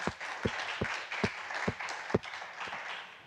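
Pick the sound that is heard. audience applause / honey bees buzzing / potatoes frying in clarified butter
audience applause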